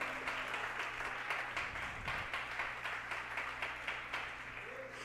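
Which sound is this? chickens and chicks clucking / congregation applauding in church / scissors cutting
congregation applauding in church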